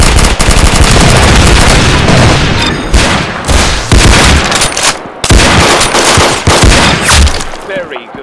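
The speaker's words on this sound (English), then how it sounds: "Very good shooting." Loud, dense automatic gunfire and blasts from the Roblox game Arsenal rattle almost continuously, with brief gaps, while voices talk over the shooting.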